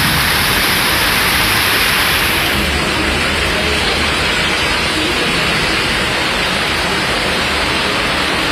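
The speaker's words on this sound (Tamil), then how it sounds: "இடி மின்னலுடன் கனமழை பெய்தது." Heavy rain pours down in Coimbatore during a storm with thunder and lightning, a loud, dense and unbroken hiss of falling water filling the whole stretch with no thunderclap standing out.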